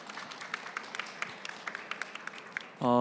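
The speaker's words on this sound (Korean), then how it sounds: "여러분들이 큰 박수 한번 부탁드리겠습니다" Sparse, scattered handclaps from a small audience at a mock public-sector group-discussion job interview, a few people clapping unevenly before a voice cuts in at the end.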